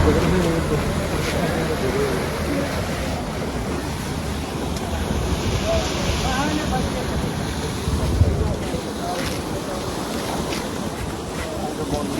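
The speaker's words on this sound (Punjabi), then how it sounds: "ਪਾਣੀ ਪੂਰਾ ਰਫਤਾਰ ਨਾਲ ਚੱਲ ਰਿਹਾ ਇੱਥੇ ਪੂਰਾ" Floodwater rushes fast through a village in Punjab, a loud, continuous roaring wash with wind buffeting the microphone and a voice speaking faintly underneath.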